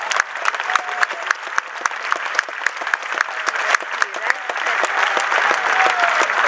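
Audience at a football team presentation applauding a midfielder, steady dense clapping from a crowd that swells slightly toward the end, with a voice talking faintly over it.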